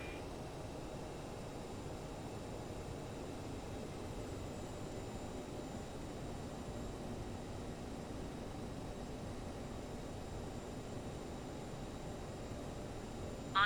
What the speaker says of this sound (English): So I will do the takeoff